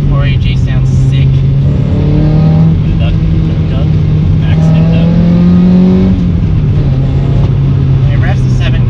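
A Toyota MR2 AW11 engine revs while driving, its tone climbing and falling through the gears in rising harmonic sweeps, loud and close inside the cabin, with a steady low drone underneath.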